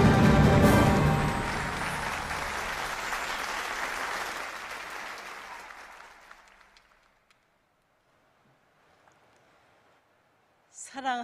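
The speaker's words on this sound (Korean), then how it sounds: "다시 한번 큰 감사와 환영의 박수를 부탁드리겠습니다" A large rally crowd claps in welcome and thanks. The applause is loud and dense at first, then thins and fades away to near silence, and a brief new sound rises at the very end.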